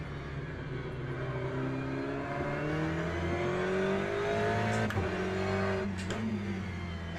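Race car engine in the Le Mans Ultimate sim at Fuji Speedway, a steady loud drone with rising revs through the gears and brief shift dips, sustained throughout.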